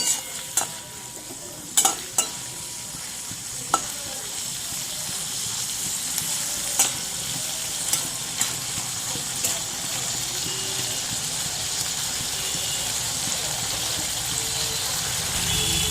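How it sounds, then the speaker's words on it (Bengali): Prawns stirring and frying in a pan on low heat, a steady soft sizzle with a few sharp scraping clicks early on, continuous and fairly close with no talk. "এগুলোকেও আমি কম আঁচেতে একটু নাড়াচাড়া করে নিচ্ছি।"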